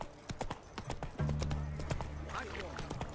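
Roach the horse in The Witcher 3 clip-clopping at a quick pace, close hoofbeats on hard ground under a voice, with a short low snort or whinny.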